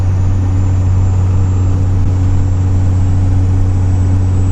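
A vehicle's new diesel engine drones steadily at close range on a drive along the John Day River, with a low, even rumble and no change in pitch or loudness.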